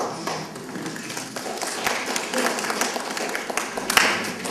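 An audience at an art exhibition opening claps together, a dense, fairly soft patter of many hands with a few sharper individual claps standing out.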